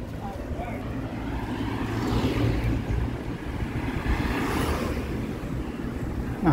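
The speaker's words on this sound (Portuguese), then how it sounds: "Os carros chegando, né?" Cars arriving at the gate of the Basilica in Aparecida, a steady broad rush of traffic noise with a passing swell, loud and close, with a voice talking over it.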